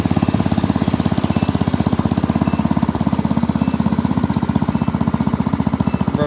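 An old tractor engine runs steadily at close range, a fast, even rough chugging with the throttle prone to slipping down, loud and continuous with no talk over it.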